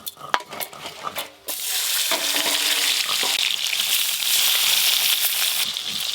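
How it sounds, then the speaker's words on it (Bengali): River tul fish sizzle and fry steadily in hot oil in a home kitchen, a loud continuous hiss after a few clattering knocks at the start, with no talking. "অর্ধেকগুলো তুল মাছ ভাজা হয়ে গেল, এবার এইগুলো ভেজে নেব।"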